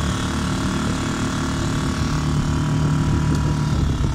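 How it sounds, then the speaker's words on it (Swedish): A small boat motor hums and drones steadily at close range, a continuous engine whine with rushing noise underneath and no talking. "Det är en liten jävla motor."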